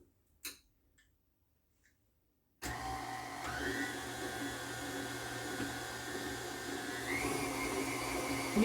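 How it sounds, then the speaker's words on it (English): An electric stand mixer creaming butter and sugar: after a brief click or two and a pause, the motor starts with a steady, close whirring hum that shifts in pitch twice as the speed changes, with no talking. "You're creaming this butter and sugar together."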